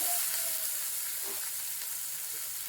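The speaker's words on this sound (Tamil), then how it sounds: "நல்லா வதங்கட்டும்." Onions sautéing in a pan while making uppurundai, a continuous, even sizzle and hiss of frying with little variation, heard alone and fairly close.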